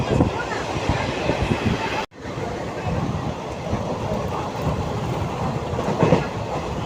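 Train running past Dankuni in heavy rain, heard from inside: a constant rumbling roar of wheels and rushing air, with a brief dropout partway through, close and loud, with faint voices underneath.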